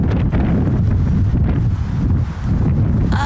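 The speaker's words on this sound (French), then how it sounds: "Il y a des bourrasques de vent" Strong, blustery wind buffeting the microphone in heavy low rumbling gusts, loud and continuous with a brief lull near the end.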